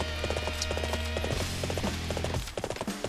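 Horse hooves in Dynasty Warriors 7: Xtreme Legends beat in a fast rhythmic clip-clop gallop over a game soundscape, loud and continuous, with no talking.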